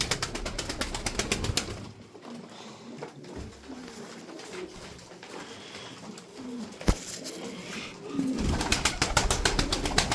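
Fancy Turkish performing pigeons coo nearby in soft repeated calls, with rapid bursts of wing clapping at the start and end and a sharp clatter midway.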